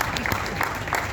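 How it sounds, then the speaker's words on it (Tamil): Crowd applause at a Tamil film event celebrating a director's 25 years, a dense hall-filling wash of clapping at moderate level, heard briefly. "கை தட்டிகிட்டே இருக்கணும்."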